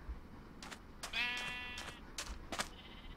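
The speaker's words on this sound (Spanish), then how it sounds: "vengan, vengan, queridas amigas. Amigas ovejas." A sheep in the video game Minecraft lets out one clear, wavering bleat amid a few short soft game noises, alone and quiet, with no talking.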